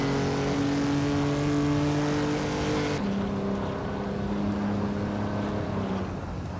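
Engines of racing cars, including a 1966 Lotus Cortina, drone in a continuous loud, steady roar with layered sustained engine tones that shift pitch together midway, as if a gear change or a car passing.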